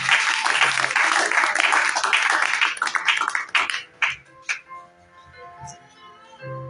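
A church congregation breaks into loud, dense applause mixed with voices, sustained for about four seconds before thinning into scattered claps and quieter sounds.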